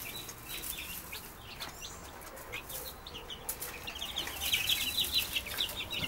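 About fifteen young chicks of mixed breeds, including brown reds, cheep in a warm brooder under a heat lamp. The high peeps are faint at first, then grow busier and denser near the end over a low hiss.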